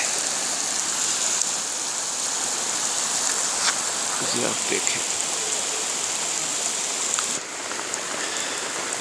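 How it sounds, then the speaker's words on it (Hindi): Heavy stormy rain with hail pours down steadily at a mountain campsite, a dense close hiss lasting throughout, with brief sharper patters and someone speaking a few words over it. "तूफानी बारिश हो रही है, मोबाइल सारा भीग रहा है।"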